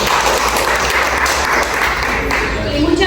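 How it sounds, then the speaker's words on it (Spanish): Applause from the audience at a violence-prevention awareness workshop, a steady dense wash of clapping that fills the short stretch with no gaps, with voices mixed in underneath. "Aplausos por favor."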